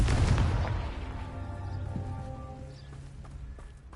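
A Confringo fire spell blast in a video game bursts loudly at the start, then rumbles and fades over a few seconds with faint tonal hums beneath.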